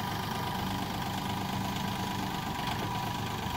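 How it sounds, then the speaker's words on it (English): A farm tractor engine idling nearby, a steady low rumble with a faint knocking pulse and no change in pace throughout. "it's easy peasy with the tractor"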